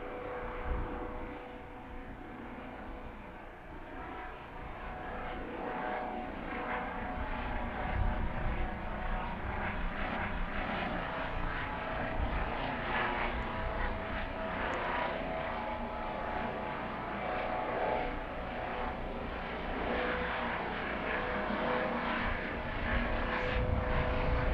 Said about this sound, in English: That's a helicopter on the runway, I think.